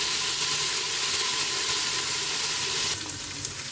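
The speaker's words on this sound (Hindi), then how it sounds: "अब हम अदरक और हरी मिर्चें जो हैं ये डाल देंगे, इनको फ्राई करेंगे" Ginger and green chilies fry in a pan for a dhaba-style daal mash, giving a steady, close sizzle with hissing steam that drops slightly softer near the end.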